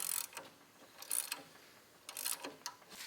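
A hand ratchet cranks down a bolt on a 3-inch lift kit for a Toyota, giving faint, close clicking strokes in short bursts with brief pauses between them.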